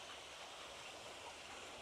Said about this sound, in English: But you can hear the water running.